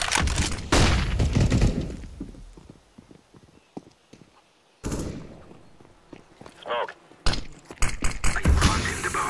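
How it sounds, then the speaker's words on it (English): Counter-Strike: Global Offensive round with a flashbang grenade going off amid bursts of gunfire, loud sharp blasts and crackling shots in clusters, with near and far impacts and lulls between. "Deploying flashbang."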